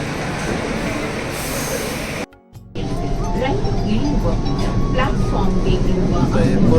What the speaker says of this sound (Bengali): এইমাত্র মেট্রো থেকে নেমে ম্যাজিস্ট্রিটের প্ল্যাটফর্মে নামলাম